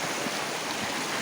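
Flood water left by heavy rain flows steadily on a hillside, a continuous broadband rushing like a stream, close and even throughout with no voices.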